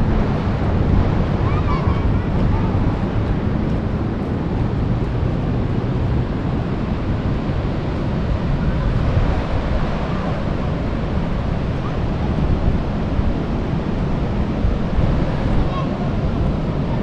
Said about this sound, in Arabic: مع البحر والهواء جميل.